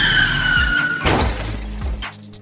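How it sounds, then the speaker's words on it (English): A car crashes into parked cars with a loud impact, and glass shatters in a sharp burst. A tyre squeal comes just before the hit, and rattling debris follows it. "Grealish smashed into some parked cars."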